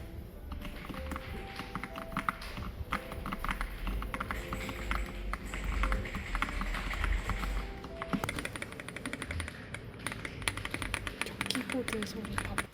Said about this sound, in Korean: 키보드 소리 봐봐.